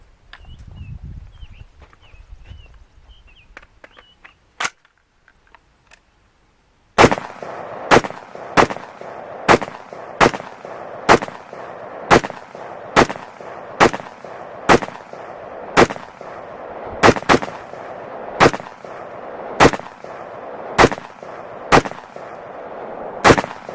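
IWI Tavor rifle firing outdoors: after a few seconds of quiet, about seventeen sharp, loud shots ring out at a steady pace of roughly one per second, each with a short echoing tail.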